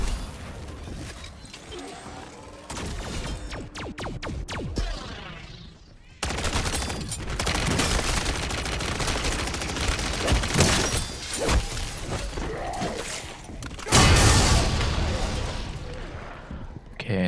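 Gunfire from a weapon in MW Zombies, the Season 2 Dark Aether Tier 4 solo mode: repeated loud bursts and rapid shots with mechanical clatter, spread across the stretch in several dense clusters, with talk intermittently over it.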